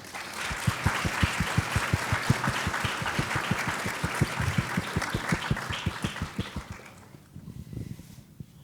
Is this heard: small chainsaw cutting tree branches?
no